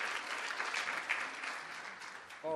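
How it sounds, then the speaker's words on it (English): A room of attendees at a citizenship workshop gives a steady, moderately distant round of applause that holds even for the whole stretch and then cuts off abruptly, with a brief voice breaking in at the very end. "So a round of applause for Ken."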